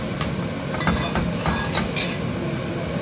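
Grated coconut is stirred into a green peas curry in a pan, a spoon scraping and clinking against the metal in quick repeated strokes over a soft simmer.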